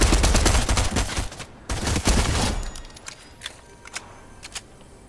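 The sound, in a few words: gunfire in a video game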